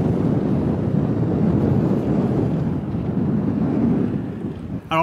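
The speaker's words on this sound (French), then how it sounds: "il y a pas mal de vent, vraiment." Strong wind buffeting across a seaside links golf course at Ardglass, a steady loud roar of gusts rumbling into the microphone throughout, with no voices heard.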